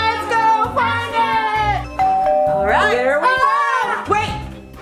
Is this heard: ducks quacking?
no